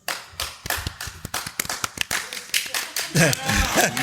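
Scattered audience clapping at a live Star Wars and Disney parks podcast recording, a few dozen distinct, uneven claps from a small crowd, followed by a voice speaking over the last of it.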